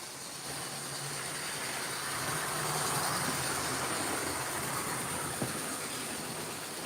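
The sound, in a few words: model train running on track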